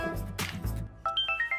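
A phone rings on an outgoing call: a short run of bright, repeating electronic ring tones that starts partway in, after a brief low rumbling stretch.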